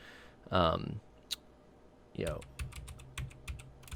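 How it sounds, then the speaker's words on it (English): Several sharp clicks from a heavy computer keyboard with dampers under the keycaps, irregular and fairly close, follow two short bursts of speech near the start. "you can pretty well hear me typing with it"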